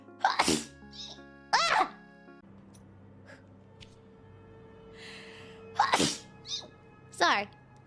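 Someone sneezes repeatedly in close, loud bursts, two at the start and another pair near the end, with short breathy sounds and quiet gaps between them.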